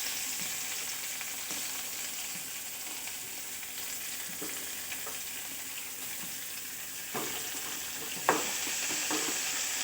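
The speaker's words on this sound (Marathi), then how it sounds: "हे एकत्र भाजून घेऊन असे परतून घ्यायचे आहे।" Curry leaves, garlic and onion sautéing in a pan, a low continuous sizzle with occasional stirring scrapes and a sharper clink near the end, no one talking.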